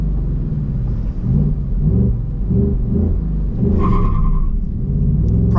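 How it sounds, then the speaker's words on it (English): A 2024 Ford Mustang GT with a 480-horsepower V8 and manual transmission accelerating hard, its deep engine note climbing through the revs with a shift break midway, then rising again, loud and close. "Let's do a quick acceleration test in this manual transmission Mustang."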